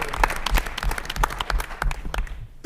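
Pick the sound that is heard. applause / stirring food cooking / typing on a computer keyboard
applause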